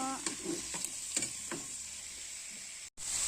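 Tomatoes sautéing in a pan for pork sinigang, stirred with a spoon in several quick scraping strokes over a continuous soft sizzle, with a brief dropout near the end.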